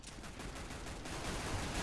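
Rapid gunfire in Counter-Strike: Global Offensive during a competitive matchmaking round, a dense continuous clatter of shots filling the moment, loud and close, with no talk.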